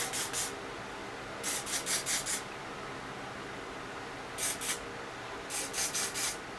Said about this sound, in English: you just want to make sure to hairspray it so that way it doesn't move